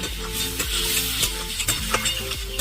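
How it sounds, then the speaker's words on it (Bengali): Spices are sautéed in a pan for a cabbage and fish-head curry with peas, giving a close, loud sizzle broken by repeated scraping stirs. "আমি কিন্তু মশলাটাকে কষিয়ে নিচ্ছি"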